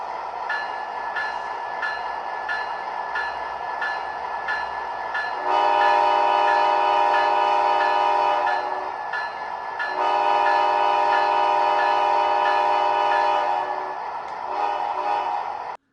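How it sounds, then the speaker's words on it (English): An O-scale model Amtrak 84 locomotive sounds its horn: a short run of quick repeated toots, then two long sustained chord blasts separated by a brief gap, loud and close with no talking. "So with Amtrak 84 all powered up, let's take a listen to its horn."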